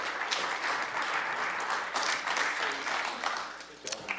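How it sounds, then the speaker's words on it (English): An audience at a county assessor candidate forum claps, a soft, diffuse round of applause from a room full of people, fairly faint and steady with a few louder claps near the end. "Could we have a round of applause?"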